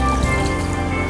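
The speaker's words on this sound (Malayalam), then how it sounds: "വെള്ളം ഒഴിച്ച് അലിയിച്ച് ഒരു സിറപ്പ് തയ്യാറാക്കും" Water is poured into a pan holding a cup of sugar on a lit stove to dissolve into sugar syrup, a short, steady trickling splash heard up close with no talk.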